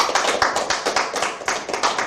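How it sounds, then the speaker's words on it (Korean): A hall audience at a Korean national flower event claps in a rhythmic unison beat, sharp hand claps repeating roughly every quarter second, fairly close and clear with no speech. "우리 어린이들, 대한민국의 어린이들을 위해서 박수 한번 부탁드리겠습니다."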